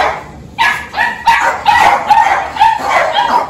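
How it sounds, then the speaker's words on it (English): Several dogs bark and yip together inside a kennel, sharp overlapping barks in bursts close by, with some whimpering between them. "We step in the doghouse and everybody bark."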